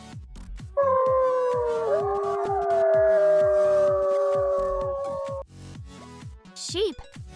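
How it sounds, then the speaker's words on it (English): A wolf gives one long, loud, sustained howl that rises and then slowly falls, set over light rhythmic background music that continues after it ends. "Wolf."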